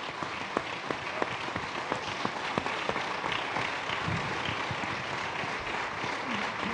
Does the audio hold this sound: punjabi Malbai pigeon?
no